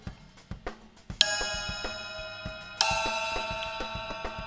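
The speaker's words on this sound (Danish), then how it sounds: "12-tommer hi-hat, som er lavet af to bells" A 12-inch hi-hat built from two thick cymbal bells is tapped in a steady pattern, giving short, dry ticks, then opened twice into bright, bell-like ringing washes that sustain over the continuing strokes.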